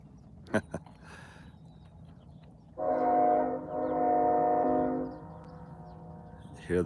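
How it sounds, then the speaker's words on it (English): A train horn sounds from the distance on a farm morning, one long blast, a brief dip, then a second sustained blast, with a couple of faint knocks before it. "Hear the train down there tooting its horn this morning."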